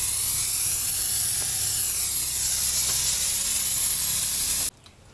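Degreaser sprays in a strong, continuous hiss across a grimy car engine bay for several seconds, close and loud, then stops abruptly.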